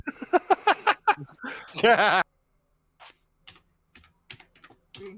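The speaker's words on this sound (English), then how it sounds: "I forgot to click in the chat box before I started typing" Quick bursts of typing on a computer keyboard into a livestream chat box, scattered keystrokes clicking close by after a stretch of speech at the start.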